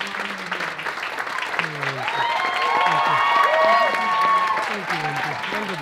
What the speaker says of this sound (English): I'd like you to give her a massive round of applause